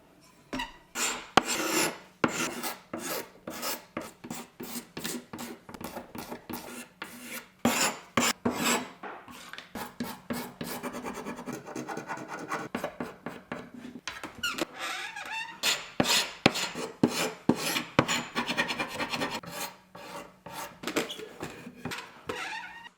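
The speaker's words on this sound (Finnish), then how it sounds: "Aloitan lakkojen poiston jaloista ja aluksi käytän näissäkin kaavinta." A hand scraper strips varnish from wooden chair legs in a steady series of rasping, scraping strokes, close and fairly loud, with brief pauses between passes.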